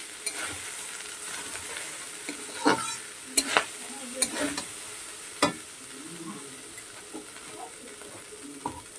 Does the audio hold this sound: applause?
no